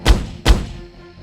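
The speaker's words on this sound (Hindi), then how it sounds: "उसकी तरफ गोली चला देता है" Two sharp, booming gunshots about half a second apart, each with a heavy low thump and a ringing decay, no voices.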